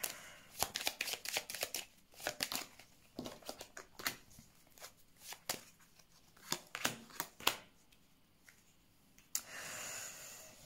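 Tarot cards being shuffled and drawn, a quick run of close, crisp riffling snaps and flicks in irregular bursts with pauses, ending in a soft rustle.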